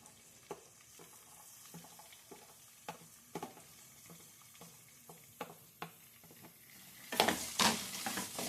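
Finely chopped onion fries in a pan over medium heat with a soft, steady sizzle, punctuated by repeated light scrapes and taps of a spoon stirring, then a louder burst of sizzling near the end.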